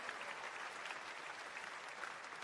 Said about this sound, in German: Großer Applaus erstmal